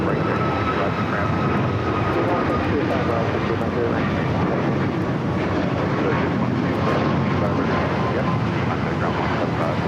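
Airbus A380 arriving from Paris toward runway 25 at Los Angeles International, a steady broad jet rumble with a faint whine on top, holding level throughout under light background commotion.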